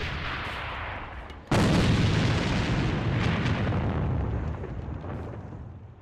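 A grenade goes off in Alliance of Valiant Arms during an esports cup final. It hits as a sudden loud boom after a quieter stretch, then a long rumbling roar slowly fades under continuing game noise.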